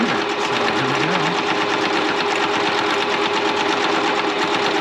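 A sewing machine runs steadily for about five seconds, stitching a border piece onto a memorial quilt, with a dense continuous whir and no talking.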